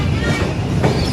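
Island Express train pulling into Thiruvalla railway station, a steady loud rumble of rolling carriages filling the short moment, with a slight surge in rail noise near the end.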